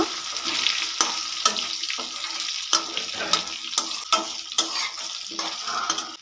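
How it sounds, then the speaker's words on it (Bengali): A spatula repeatedly scrapes and stirs fried potato, eggplant and crushed lentil dumplings in oil in a pan, giving rhythmic sharp scraping strokes over a constant close sizzle. "তেলের সঙ্গে খুব ভালো করে মিশিয়ে নেব।"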